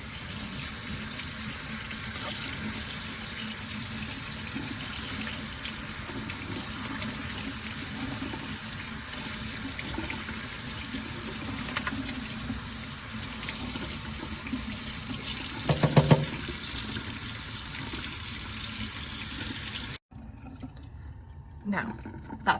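Tap water runs steadily into a sink while a paint palette is rinsed clean, a continuous hiss with a louder splashing burst near the end before it cuts off abruptly; a voice is faintly present over it.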